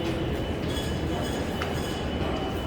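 Warsaw metro train in a station, a steady loud rumble of rolling stock filling the space with a faint clink partway through.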